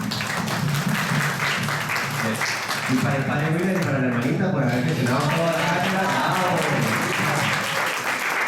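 Audience applause at a Catholic lecture series, a steady wash of clapping filling the hall throughout while someone speaks over it.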